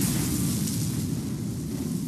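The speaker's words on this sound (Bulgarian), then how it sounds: "Зад гърба му прокънтява мощна експлозия." A powerful explosion behind a soldier in a World War II battle, heard as a sustained deep rumbling roar with hissing noise above it, loud and continuous without speech.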